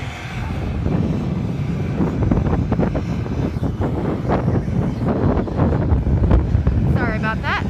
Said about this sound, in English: it's quite windy, so if you can't hear me very well, that would be why